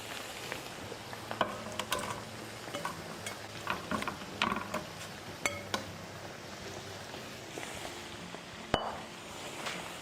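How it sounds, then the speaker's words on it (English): Onions hitting hot oil in a pan over medium heat sizzle softly and steadily, broken by scattered clinks and scrapes of stirring and a sharper knock near the end. "Just heat up the oil slightly and throw in our onions."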